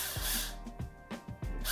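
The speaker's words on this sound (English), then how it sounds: "the first plan of action is to drill holes into my plastic tub enclosure" A power drill whirs in short bursts while boring holes into a plastic tub enclosure, the motor rising and falling three or four times up close with no talk.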